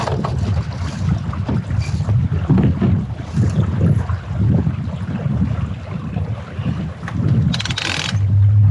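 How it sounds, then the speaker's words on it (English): Steady wind rushing past with water washing against the small hull of a Catalina 22 sailboat on a beam reach, a continuous breezy sailing sound with occasional creaks and flutters, no talking. "We are currently on a beam reach, sailing the boat."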